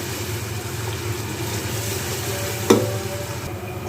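Onion masala for mutton paya curry is stir-fried over a lowered flame, giving a soft, even sizzle with one brief clatter of the spoon against the pan partway through.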